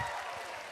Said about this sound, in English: Keep clapping.